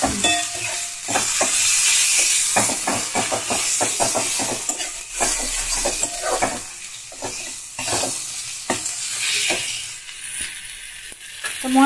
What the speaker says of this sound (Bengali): আদা রসুন বাটা, টমেটো, নুন, হলুদ গুঁড়ো আর কাশ্মীরি রেড চিলি পাউডার দিয়ে সুন্দর করে একটু আমি কষিয়ে নেব মশলা